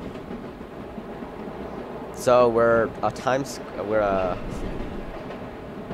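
A Manhattan-bound 7 local subway train in the World of Subways game runs with a steady low rumble throughout, while someone talks over it in the middle.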